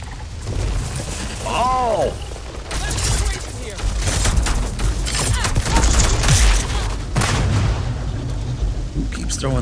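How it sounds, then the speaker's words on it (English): Grenade blasts and bursts of gunfire from a Starfield firefight ring out over a steady rumble of combat, with sharp cracks and booms scattered through it, brief tonal whines, and a voice speaking beneath the action. "Throwing those grenades."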